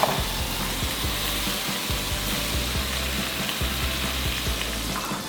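Squid stir-frying in salted egg sauce gives a steady, close sizzle and crackle that runs throughout, with faint scraping as the pieces are tossed and mixed.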